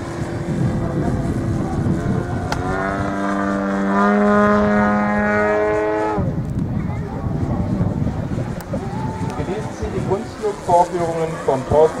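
An RC Extra EA-230 model plane with a DLE 111 petrol engine (111 cc) flies aerobatics, its buzzing engine drone swelling and shifting in pitch as it passes, with gusty wind noise on the microphone.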